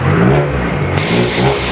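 A Honda Civic LX engine, freshly fitted with a new cylinder head gasket, runs and revs loudly nearby, a steady rumble that swells partway through as the throttle rises.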